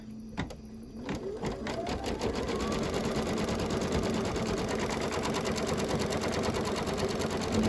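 An embroidery machine stitches a Halloween quilt block, a steady rapid mechanical whirr close by that runs continuously after a brief start-up.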